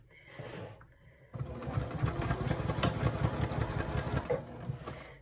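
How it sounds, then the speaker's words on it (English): A sewing machine stitches along a zipper panel edge for a handbag, close and steady. A brief hum comes first, then a rapid, even run of needle clatter continues to the end. "I'm going to start sewing right where that mark is,"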